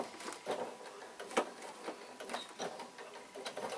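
A home sewing machine stitches the piping on a bag, its needle mechanism ticking out a quick, fairly quiet run of close mechanical taps with small irregular bumps.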